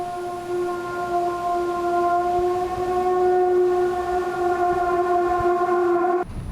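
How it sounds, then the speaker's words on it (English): A drone detector in eastern Ukraine sounds a steady, piercing electronic alarm tone at one pitch for several seconds, then cuts off abruptly, over a low background rumble. "a drone detector picks up a threat overhead"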